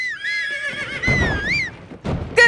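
A horse in Zelda: Tears of the Kingdom whinnies in loud, wavering neighs, with snorts and hoof clatter in between, close and prominent.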